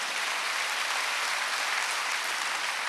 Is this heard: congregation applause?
yes